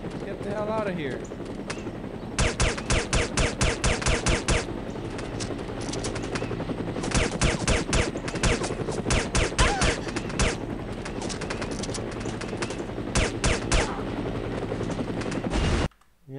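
A helicopter in the video game No One Lives Forever thrums steadily for the whole stretch, loud and close, with bursts of rapid gunfire cutting in repeatedly and a voice talking over the action.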